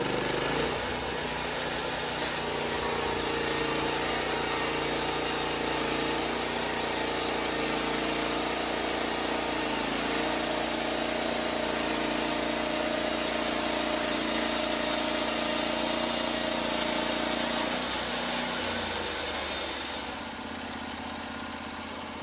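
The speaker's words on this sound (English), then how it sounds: "The LumberPro handles logs 36 inches in diameter and saws beams and boards a full 28 inches wide." A LumberPro HD36 sawmill, built for logs up to 36 inches across, saws a log into boards. A loud, steady mechanical roar and cutting noise holds for about twenty seconds, then drops away near the end.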